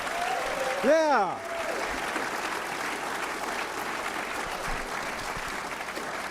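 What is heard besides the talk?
audience round of applause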